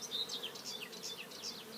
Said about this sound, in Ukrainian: От одна ловушка стоїть заселене вже бджоли там вентилірують.